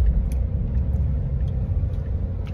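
Steady low rumble of car traffic heard from inside a vehicle stuck on Kalayaan Avenue, a continuous dense engine and road drone with faint higher ticks, no speech.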